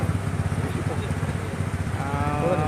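A motorcycle rides through floodwater in Barian Kalan village, its engine a steady low drone mixed with churning water. Voices talk over it throughout.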